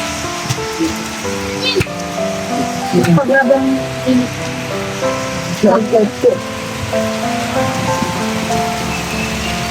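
Steady rain patters on a surface throughout, with voices talking intermittently over it.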